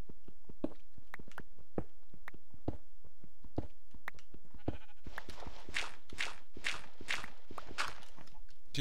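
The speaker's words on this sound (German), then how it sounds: "Ich höre Schafe." Sheep bleat repeatedly in Minecraft, several overlapping calls at close range, following a run of crisp, evenly spaced footsteps on gravel.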